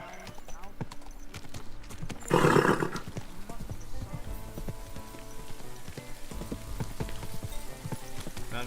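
Horse hooves clip-clop steadily in Kingdom Come: Deliverance 2, with a burst of noisy rushing partway through and game speech mixed in around the footfalls.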